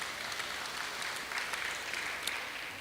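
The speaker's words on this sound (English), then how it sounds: "give it a round of applause" Round of applause from an audience at an urban renewable energy opening remarks event, faint, even clapping heard from a distance for a few seconds.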